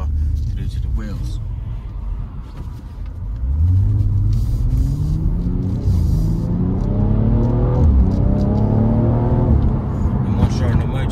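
A 2013 BMW M135i with a 3.0-litre engine and eight-speed automatic gearbox accelerates on the road, its engine note climbing through several smooth upshifts beneath someone talking.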